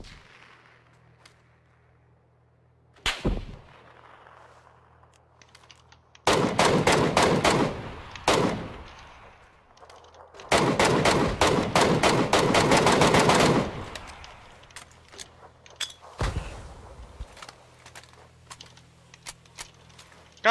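Video game gunfire in rapid automatic bursts, two long volleys and a few short ones separated by quiet gaps, loud and sharp with no voices.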